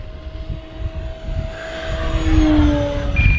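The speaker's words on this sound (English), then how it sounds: "Let's do a nice fast flyby again here." An E-flite Ultimate 3D 950mm RC biplane makes a fast flyby outdoors, its electric motor and propeller whine rising in pitch and loudness as it approaches over steady wind noise.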